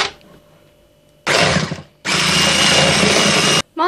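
An electric hand mixer whisks egg with powdered sugar for crystal cookies, making a loud, steady motor whir in two bursts: a short one, a brief pause, then a longer continuous run.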